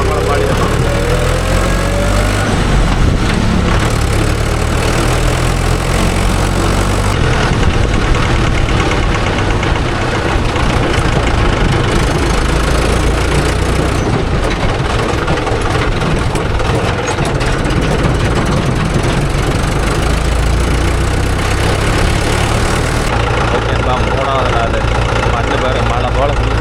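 A JCB 3DX backhoe loader's diesel engine runs at a steady idle, a loud, continuous close-up rumble with a knocking texture that holds unchanged throughout.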